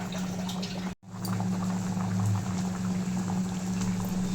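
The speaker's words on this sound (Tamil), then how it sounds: "இதை இப்போ மீடியம் ஃப்ளேமில் வச்சு நம்ம கொதிக்க விடலாம்" A pot of goat head curry bubbles and boils steadily over a medium flame at close range, with a constant low burble and a brief dropout near the start.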